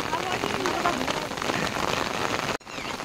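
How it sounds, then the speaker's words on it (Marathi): Steady rain pours onto a farm field in the Konkan countryside during ploughing, a dense close hiss with a brief drop-out near the end. "आणि पाऊस पण चालू झाला आहे त्याच्यामध्ये."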